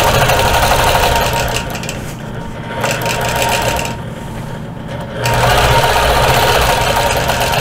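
A sewing machine stitches a feather and crosshatch quilt border for a Cat's Cradle quilt, running loud and continuous with a steady rapid whir, slowing briefly twice before speeding back up.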